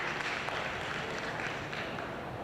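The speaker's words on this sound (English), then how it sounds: "Jacob Evans, the first man to make way, earns a deserved applause from the traveling support" Traveling away supporters at a soccer match between Inter Miami CF II and Carolina Core FC applaud substituted players; steady, distant crowd clapping forms a soft, even wash of sound throughout.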